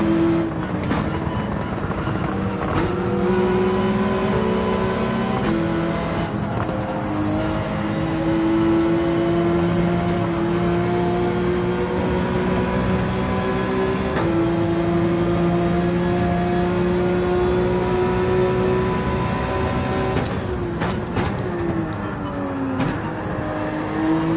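Porsche 911 engine in Gran Turismo 7 at Dragon Trail, revving steadily and close, its pitch climbing and dropping through gear changes for the whole stretch with no talk.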